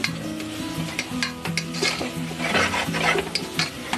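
Ginger and garlic sautéing in a pot for prawn biryani, giving a continuous close sizzle with repeated stirring scrapes and small utensil knocks and no voices.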